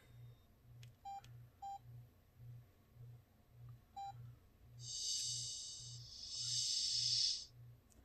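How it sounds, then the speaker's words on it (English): A Motorola phone shuts down with a few short, faint electronic beeps, then a longer, brighter two-part chime of about two seconds. A soft, regular low pulsing runs underneath throughout. "That's a weird shutdown sound."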